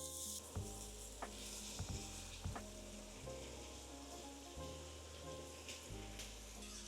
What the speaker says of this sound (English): now the pan is nice and hot, I'm gonna add our beef